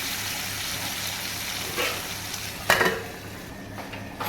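Tomatoes fry in oil in a pan, with a soft continuous sizzle and light scraping of a utensil, a brief clatter of cookware midway, fairly quiet and close.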